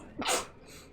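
A single sharp sneeze bursts out close by, with a quick intake of breath before it, then quiet.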